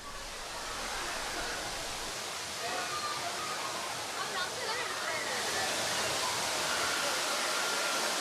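A waterfall cascades down the hills near the Kapileswara temple in Tirupati, making a steady broad rushing roar with no breaks. Voices may be faintly mixed in.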